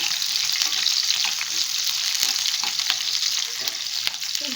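Onions and curry leaves fry in a pan for bendakaya pulusu, a dense, crackling sizzle heard close and loud throughout, with a few sharp stirring taps.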